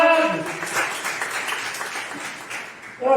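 A church congregation applauds during a sermon on spiritual battle and the armor of God, a steady patter of clapping running for a few seconds while a preacher's voice carries over it.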